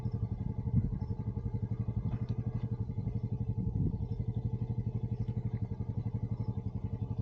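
A motorcycle left running at a standstill putters in a steady, rhythmic idle close by, the low chugging pulse holding even for the whole stretch with no talking over it.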